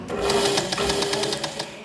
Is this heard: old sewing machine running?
yes